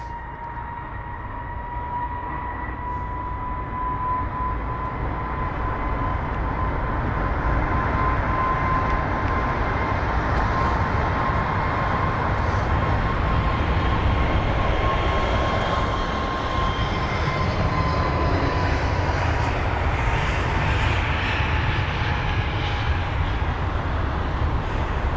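An A321neo airliner taxis at London Heathrow, heard as a steady moderate engine hum with a clear whining tone and distant rumble, continuous and unbroken with no talking.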